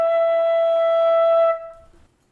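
A single sustained E natural played on a flute, clear and loud with a pure tone, held for about one and a half seconds before it stops and fades away.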